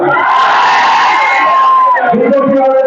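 A large crowd at a political rally shouting and cheering together, loud and close, a sustained roar of many voices that sways slightly as it goes on.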